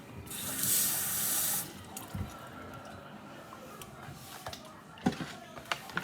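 Kitchen tap briefly running water into a sink, a short steady gush near the start, then quiet squishing and clattering of kitchen items, faint and close.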